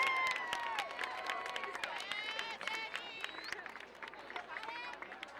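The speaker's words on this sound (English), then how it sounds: "Let's give a round of applause for your candidates." Crowd applause and cheering for homecoming candidates at a high school football game between Culver City and Lawndale, a steady mass of clapping with scattered whistles and voices across the stands.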